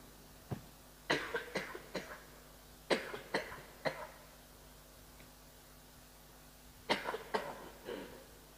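Faint coughs in a quiet room during a religious lecture, several short clustered bursts of two to four coughs each, separated by pauses, over a low background hiss.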